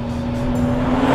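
A 1000 hp Nissan Skyline R34 accelerates, its loud, steady engine note holding a strong droning pitch that builds slightly in volume over a brief moment.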